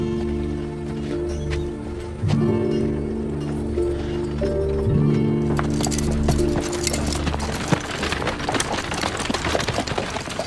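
Hooves clip-clop steadily from horses on a street, a continuous rhythmic trot under music with a faint whinny possible, growing busier and louder in the second half.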